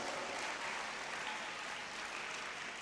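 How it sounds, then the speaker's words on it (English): A dense, steady wash of audience applause at a Yogotsav 2025 college gathering, with many hands clapping evenly at a constant level for the full stretch and no voices over it. "Now applause for Yenepoya College."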